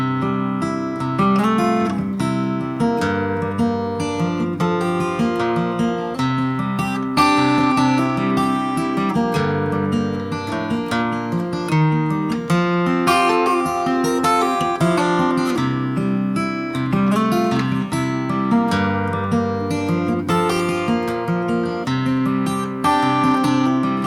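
A 1964 Gibson J50 acoustic guitar played alone, steady strummed and picked chords with bright ringing harmonics, close and even in loudness throughout with no voices.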